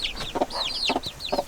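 Backyard chickens cluck and chirp in short, repeated bursts, several birds calling close by at moderate volume with no talk over them.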